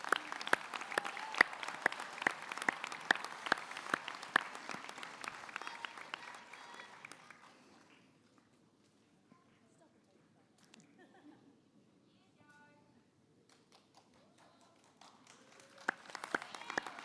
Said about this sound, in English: So let's give all of our kura coordinators a big clap and cheer for getting you here.